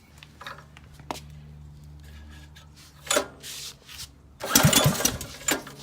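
A Reaper minichopper engine, leaking gas, is pulled over by hand: scraping rasps of the starter pull, then a short loud sputtering burst as it tries to catch near the end.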